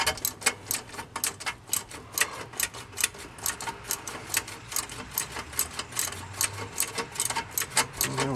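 A ratchet wrench cranking out a stubborn exhaust manifold bolt during a header install on a 1996 Chevrolet Impala SS, rapid regular ticking clicks in quick bursts, close and moderately quiet.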